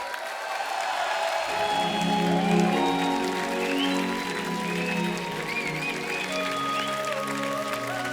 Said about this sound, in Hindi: एक बार जोरदार तालियां पूर्वी जी के लिए